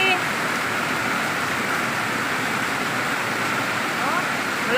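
Strong current of rainwater rushing during a heavy downpour, heard as a steady, loud, dense roar of flowing water and rain that stays even throughout without a break.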